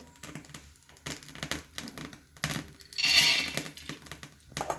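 Peanuts are dry-roasted in a pan, rattling and scraping in uneven bursts as they are stirred, with a brighter, harsher rustle partway through; close by, with no voices.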